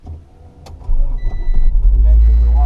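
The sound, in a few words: 1996 Integra LS car engine starting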